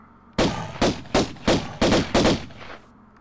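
Six loud, closely spaced gunshots ring out at a bear in the 1996 PC game Tomb Raider, each a sharp crack with a brief decay, in a steady rhythm and with no talking.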